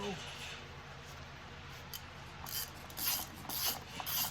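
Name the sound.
removing Mercedes oil filter housing cap with removal tool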